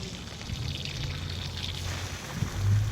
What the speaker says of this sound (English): This will be with a little more water, a little more volume, and a little more pressure.